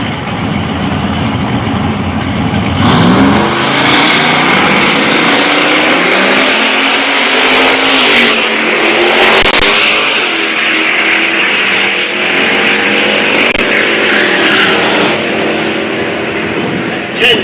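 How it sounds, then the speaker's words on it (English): An 1984 Buick Regal and a Camaro launch side by side at a dragstrip. Engines roar hard and climb in pitch as the cars pull away, with a loud, sustained din and an announcer's voice running over it. "Here's James Chance, the 84 Buick Regal in the left lane. Taking on the Catfish Camaro in the right lane"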